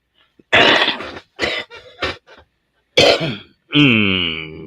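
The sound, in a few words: coughing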